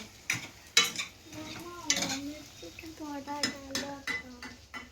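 A spoon stirs a frying egg and masala mixture in a pan for dhaba-style egg rice, with repeated scraping clinks against the metal, a soft sizzle beneath, and faint speech in the background.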